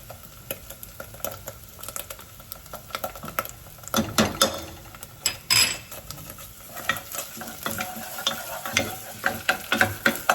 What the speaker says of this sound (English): Stir this up good.